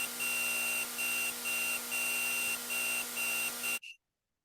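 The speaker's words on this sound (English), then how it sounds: "the beeps are actually much louder" A steady high-pitched electronic beep, produced from an LCD screen's electromagnetic emissions, repeats in short regular pulses over a constant hiss, then cuts off abruptly into silence.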